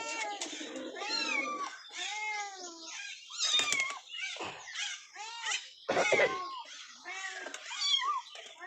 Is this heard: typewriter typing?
no